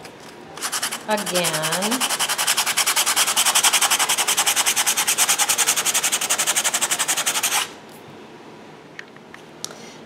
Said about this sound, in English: And some sandpaper